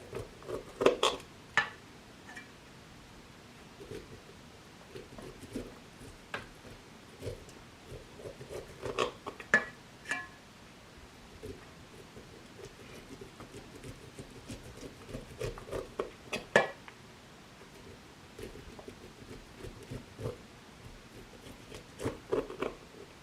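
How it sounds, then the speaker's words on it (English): A knife slices corn kernels off the cob, the kernels dropping into a bundt pan; soft scraping and crisp cutting strokes repeat unevenly up close, with patters of kernels landing in the metal pan and no talk. "as you cut, as you can see, the corn falls into the bundt pan"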